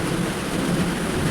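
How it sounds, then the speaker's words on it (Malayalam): Heavy rain pours down in a steady, dense hiss with a low rumbling undertone of thunder, continuous and fairly loud throughout the brief moment. "മഴയാണ്. ഇടി വെട്ടുന്നുണ്ട്, നല്ല ഇടി വെട്ടുന്നുണ്ട്."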